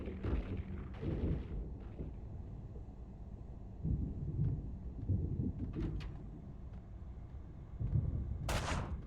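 Gunfire in the PC shooter Max Payne 2: The Fall of Max Payne, heavy low booming shots and blasts coming in uneven bursts over a dense rumbling game mix, ending in a sharp bright crack.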